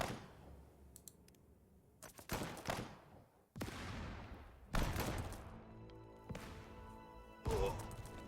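Bursts of gunfire from an attack in the tank strategy game Total Tank Generals, several loud sharp volleys with crashing tails spaced over a few seconds, no talk.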